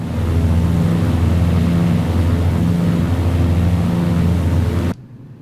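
Twin Pratt & Whitney R2800-34W Double Wasp radial engines of a Grumman F7F Tigercat running up in Flight Simulator X, a loud, steady droning roar that cuts off abruptly near the end.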